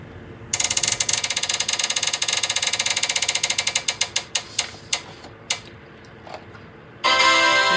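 A prize wheel spun hard, clicking rapidly against its pointer, the ticks slowing and spacing out until it stops, followed by a burst of noise.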